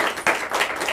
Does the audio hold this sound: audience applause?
yes